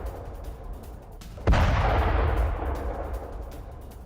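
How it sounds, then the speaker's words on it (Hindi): A single heavy artillery blast from bombardment in Donetsk bursts out loudly, then rolls into a long rumbling decay over faint background noise. "ये तस्वीरें आप देखिए, डोनेट्स्क में यूक्रेन की तरफ से जो भीषण बमबारी की गई है"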